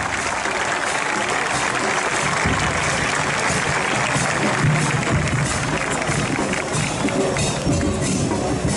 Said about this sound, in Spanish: Recibamos ahora con otro fuerte aplauso